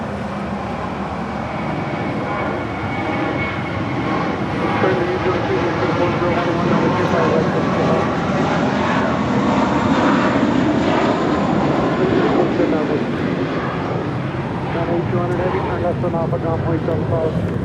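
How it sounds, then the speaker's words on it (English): American Airlines Airbus A321 at Los Angeles International Airport, departing for JFK: a loud, steady jet engine roar, broad and continuous for the whole stretch, swelling slightly midway, with background voices faintly underneath. "This is American Airlines Flight 4 departing to JFK on an A321."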